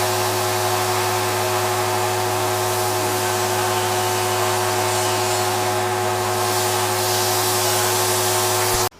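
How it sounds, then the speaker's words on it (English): A loud, steady hiss from a leak on a 2008 GMC Sierra 1500 pickup runs without a break over a low constant hum, then cuts off abruptly at the very end. "so you hear my leak."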